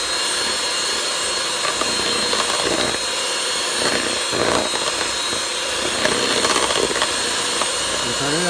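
An electric blender whirs loudly and steadily while mixing pancake batter for green pancakes, a continuous buzzing roar that runs the whole time with a voice faintly over it.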